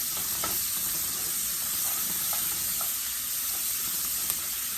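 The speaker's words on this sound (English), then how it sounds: "You saute them in with the bacon." Onions saute with bacon in a pot for a lima bean dish, making a constant, even sizzling hiss with faint stirring ticks close by, and no talking.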